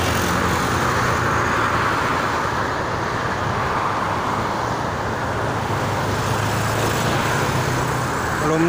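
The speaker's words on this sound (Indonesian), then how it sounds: "Ini masih didominasi oleh kendaraan pribadi dan juga truk angkutan barang." Steady, loud, continuous traffic roar on the Jakarta-Cikampek toll road, with private cars and cargo trucks passing in a dense rushing wash and low engine rumble throughout, no voices.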